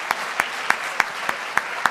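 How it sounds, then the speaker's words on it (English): An audience at a Rotary Club gathering claps in a short burst, with a few distinct, evenly spaced claps standing out over a steady patter of applause. "And how about a round of applause for Brian?"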